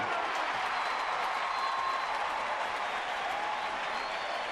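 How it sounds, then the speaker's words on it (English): Dense, steady crowd roar at a baseball stadium during a Phillies at Giants game in San Francisco, a loud continuous wash of cheering and applause filling the whole stretch without a break. "And the roar of the crowd scared them all out."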